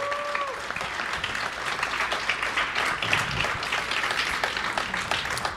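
A live crowd at a Cleveland wrestling podcast taping cheers and applauds, sustained dense clapping with whoops throughout, fairly loud and continuous.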